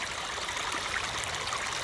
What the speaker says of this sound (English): 3 streams come together as one.